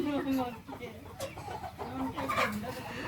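Burmese fighting chickens cluck and call in short bursts nearby, with a voice speaking over them.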